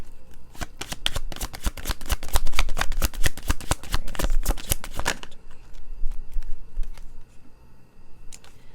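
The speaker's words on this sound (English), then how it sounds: "So I'm going to pull a few cards out of this deck." Tarot deck riffled and shuffled in a rapid run of crisp card flutters close by for about five seconds, then quieter scattered slides and taps as individual cards are drawn from the deck.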